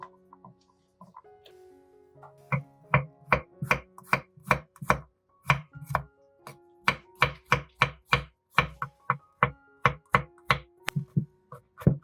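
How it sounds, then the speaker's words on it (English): A knife chops garlic cloves on a board in a quick, regular run of about twenty sharp, close knocks after a quiet start, with only brief pauses between bursts. "Chop or slice 5 cloves garlic."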